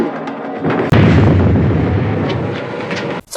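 A grenade explodes in a scene from the Planet of the Apes TV series: a sudden loud boom followed by a long, heavy, rumbling roar that fades slowly before cutting off.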